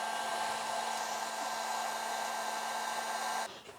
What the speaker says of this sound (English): the noisy heat gun has been unplugged and moved away after it did its cooling